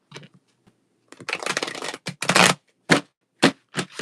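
Tarot cards are shuffled by hand in quick bursts, a series of crisp riffling and slapping card sounds, close and irregular with short pauses between.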